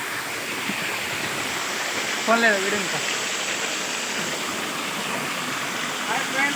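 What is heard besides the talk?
Kurnool waterfall flowing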